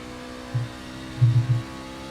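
Race truck engine in iRacing at Milwaukee, a steady low drone with a few short throaty swells of throttle, heard alone without talk.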